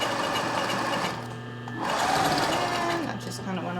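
Home sewing machine stitching fabric in quick whirring runs with a short pause between, the motor whine close and steady while someone talks over it.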